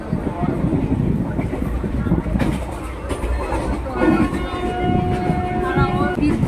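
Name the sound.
crowded local train running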